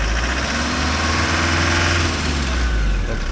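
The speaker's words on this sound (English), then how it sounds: "I haven't heard it rev that high for a long time" A van engine runs at high revs with a steady, loud, continuous drone and vibration, with no speech over it and no clear change in pitch.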